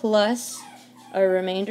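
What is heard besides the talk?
dog whimpering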